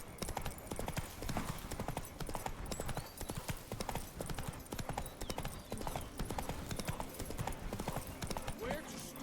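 Roach the horse gallops in The Witcher 3, with a fast, steady clip-clop of hooves throughout and a faint whinny now and then. Voices can be heard faintly in the background.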